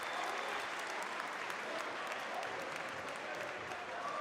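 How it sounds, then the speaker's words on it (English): A basketball arena crowd at a Champions League game applauds an injured player getting up off the floor, with steady, dense clapping filling the space throughout and no break. "straight away applauding Lomas as he gets off the floor"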